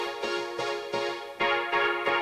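A synth sound distorted above 400 Hz with the lows cut, repeating in steady rhythmic notes with bright, buzzy harmonics, loud and close with no talking.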